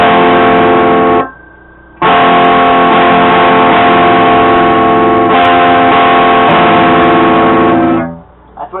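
High-pitched guitar chord strummed and left ringing, loud and sustained, then struck again after a short break and held for several seconds before fading.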